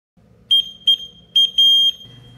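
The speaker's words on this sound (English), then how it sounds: "It has a rather loud horn, which is a high-pitched kind of beeping sound." The horn of a Merits Roadster mobility scooter beeps high-pitched in four short electronic bursts, the last held slightly longer, loud and close with no one talking.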